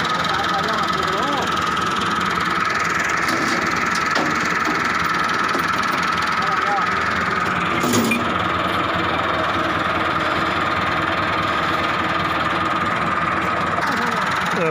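A borewell boring machine driven by an MF 375 tractor engine runs steadily while drilling, a loud continuous drone and rumble with faint voices underneath.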